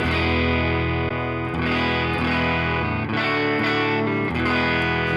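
Electric guitar played through a ToneX pedal with no compression and heavy low end, a loud, thick distorted tone with sustained chords changing every second or so, close and continuous without speech.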